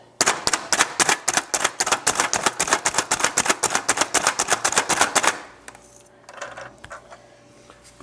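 A Cuisinart food chopper cutting food, its blades rattling in a rapid, steady run of sharp clacks for about five seconds, close and loud, then stopping and leaving faint handling noise.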